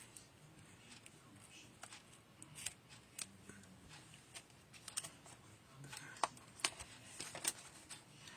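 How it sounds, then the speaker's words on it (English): Sharp snipping clicks from ribbon scissors cutting ribbon recur irregularly over a low background hum, growing a little louder and closer toward the end. "I will use my ribbon scissors."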